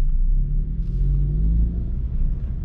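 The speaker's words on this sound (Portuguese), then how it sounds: "Pode vir os dois carros andando junto, que a gente vai fazer uma volta em baixa velocidade aqui" Two cars roll slowly around a track together, producing a low, steady engine rumble with a faint drone on top, close and continuous without any hard acceleration.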